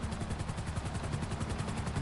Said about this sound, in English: it sounds just like a normal helicopter would